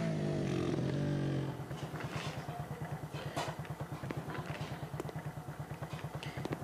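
A nearby motorcycle engine idles with a loud, steady, rapid thumping pulse after a brief louder rev at the start; no talking is heard.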